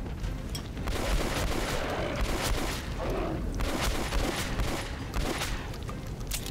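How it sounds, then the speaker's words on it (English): Gunfire in the PC game Metro Last Light, a dense continuous barrage of shots and booms layered over one another, loud and sustained with no pauses throughout. "For about four shots at this thing to kill him."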